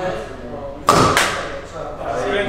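A single sharp impact cracks out, quickly followed by a second thud, as an arrow from a bow strikes a target outdoors in strong wind, with faint background noise before and after.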